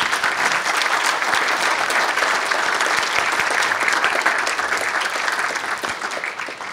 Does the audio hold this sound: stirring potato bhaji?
no